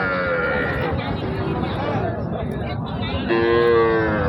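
Sahiwal bulls low at a busy cattle market, drawn-out moos rising near the end over a constant murmur of crowd chatter.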